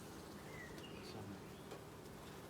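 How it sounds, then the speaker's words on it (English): Bees buzzing around an opened beehive, a faint, thin drone with a few brief higher whines of individual insects passing, quiet and fairly distant. "Calm the bees down a bit."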